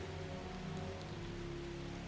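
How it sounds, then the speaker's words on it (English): Rain falls steadily onto muddy ground in an audio drama scene, a soft continuous hiss with faint low rumble and no voices, even and unbroken throughout. "The falling rain puts out the flames as it hits the muddy ground below."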